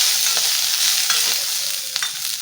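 Onions fry in hot oil with a loud, steady, close sizzle and occasional soft stirring scrapes, with no talk.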